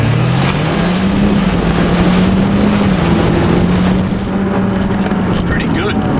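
A Mitsubishi Lancer Ralliart with an MRT XC power kit pulls away from a standing start in sport mode, its engine droning and rising steadily under heavy wind and road noise.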